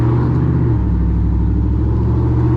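A cammed 5.3 V8 with a TSP Chupacabra cam, long tube headers and 35-inch tires driving, giving a loud, steady, close low rumble with a lopey idle-like throb and a slight shift in pitch partway through.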